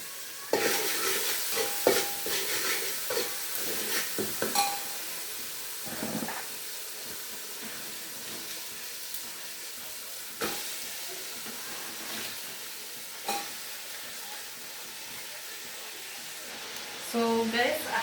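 Cabbage sizzling in a pan with beef masala and paprika, a steady frying hiss broken by scraping stirs, with a person talking over it.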